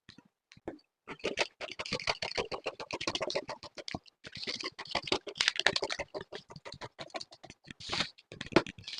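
Scissors cutting fabric pieces for a belted bubu dress: a long run of close, crisp snipping clicks with short pauses between bursts, alone with no talk.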